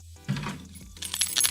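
A bunch of keys jangling up close in quick metallic clinks, two short bursts of rattling after a brief quiet start.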